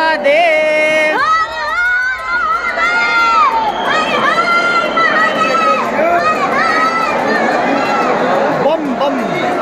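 A crowd chanting and cheering at a Kaal Bhairav temple, many voices raised together in rhythmic shouts that rise and fall, close and loud throughout.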